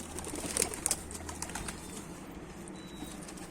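Pigeons in a box coo and shuffle close by, with a few soft wing flaps and scratchy rustles over a low, steady background hum; nobody talks.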